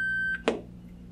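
A single electronic beep from an OrCam talking product-recognition device for blind users, a steady tone about a third of a second long, followed by a brief soft click, heard alone and close.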